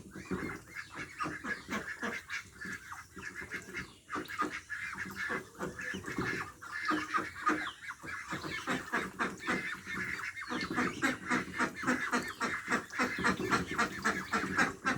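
Chinese ducks on a farm honk and quack repeatedly while feeding, a busy overlapping chorus of calls at moderate distance, more frequent toward the end.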